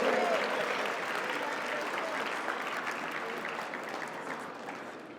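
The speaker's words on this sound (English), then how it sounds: "Big round of applause for Tej." Audience applause at an award ceremony for the North South Foundation finals, a broad continuous wash of clapping that slowly fades, with a voice briefly audible at the start.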